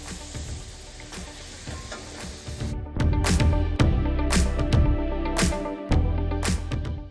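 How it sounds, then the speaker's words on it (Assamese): Puris (luchi) deep-frying in hot oil in a kadai on a gas stove, a steady sizzle that grows louder partway through with bursts of bubbling and crackle as pieces go in, close and alone without talk. "এতিয়া এখন এখনকৈ গোটেইবোৰ লুচি ভাজি ল'ম।"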